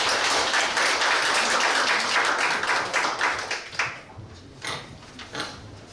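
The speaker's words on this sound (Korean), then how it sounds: "박수 한번 부탁드립니다." Audience applause at an academic seminar on Korean feng shui and myeongri philosophy, a dense burst of clapping that thins into scattered individual claps and fades out after about four seconds.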